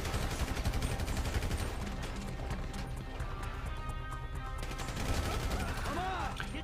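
Police gunfire in the video game GTA V: dense, rapid volleys crackle at a distance, mixed with game noise and clattering effects, continuous throughout and fairly loud.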